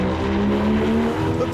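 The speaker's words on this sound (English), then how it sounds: "That is engine sound perfection." Porsche 718 Cayman S running close by, a sustained engine and intake tone holding steady with a faint rise near the end, loud and continuous throughout.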